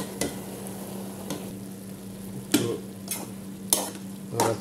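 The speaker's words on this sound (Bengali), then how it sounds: "একটু নাড়াচাড়া করে দিলাম, ভালো করে মিক্স করে দিলাম" A spoon stirs red amaranth greens with coriander powder, turmeric, mixed spice and salt in a frying pan, giving sharp scraping strokes every second or so over a soft, steady sizzle.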